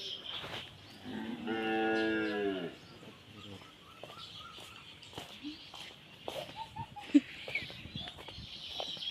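A buffalo moos once, a drawn-out low call early on, followed by scattered farmyard noises and faint voices in the background.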